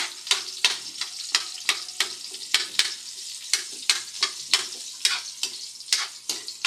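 Garlic frying in a pan for adobo, with a bright sizzle punctuated by regular scraping strokes of a spatula, steady and close.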